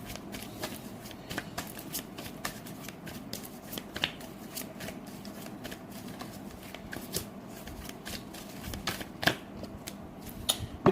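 Tarot cards being shuffled and drawn, a steady stream of soft riffling and snapping card sounds close up, with a few sharper flicks as cards are pulled, and no talking.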